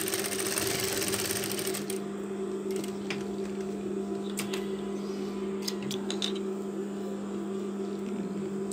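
A sewing machine stitches a half double-breasted Turkish coat. A rapid whirring burst is followed by a steady mechanical hum with faint clicks and light handling taps close by, with no talking.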